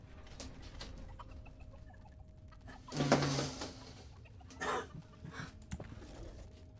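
Chickens clucking in the dungeon-building video game Dungeons 4, a faint low game ambience broken by one louder burst of clucks and a shorter one after it, with no talking.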